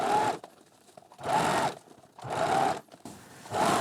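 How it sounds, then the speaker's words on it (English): Sewing machine top stitching the folded seam allowance on a five-panel fabric hat, running in four steady bursts of about a second each, separated by short pauses, close and clear with no talk. "I'll top stitch it."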